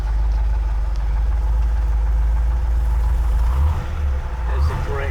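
Deep, steady rumble of a 1960 Chevrolet Impala hardtop coupe's engine idling in traffic, heard from inside the car, with a slight change in tone near the end and faint voices underneath.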